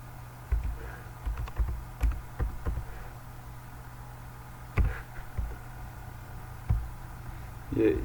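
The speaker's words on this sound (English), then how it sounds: "So I'll type my username here." Laptop keys are tapped in short clusters of soft clicks as a username is typed, with brief pauses between bursts, close and quiet against a faint steady hum.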